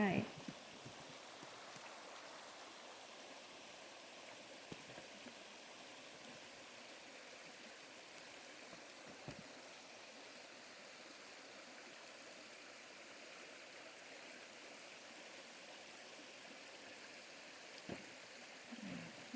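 A creek flows with a steady outdoor rush of water, continuous and even throughout, with a few small knocks and taps standing out now and then.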